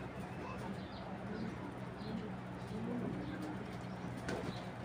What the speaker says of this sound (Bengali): কবুতরের ভাইব্রেশন আওয়াজটা শোনেন।